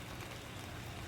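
Steady rain falling at night over an open rice-field fishing spot, a dense even hiss with a low patter underneath, close and continuous with no voices.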